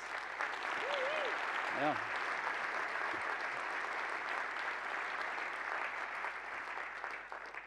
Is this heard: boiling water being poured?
no